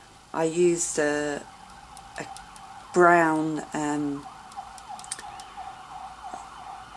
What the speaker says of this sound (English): an ambulance is going past